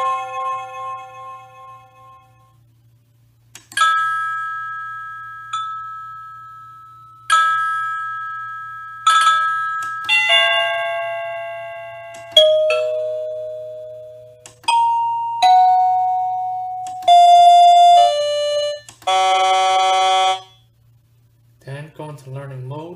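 A classroom answer-buzzer receiver plays a sequence of selectable electronic chimes: bright single tones and multi-note ding-dong patterns, each sounding crisply and decaying, separated by short pauses, ending with a warbling tone, loud and close with no voices.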